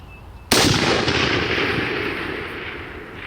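A single rifle gunshot fired at an elk 800 yards away outdoors, a sharp loud crack with a long rolling echo that decays over the next few seconds, no voices.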